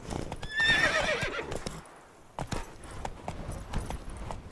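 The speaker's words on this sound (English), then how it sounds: "Whoa there, Roach. Go, go. Come on now." In the Witcher 3 video game, a horse whinnies loudly near the start, then its hooves clop at a steady gallop that continues after a short lull.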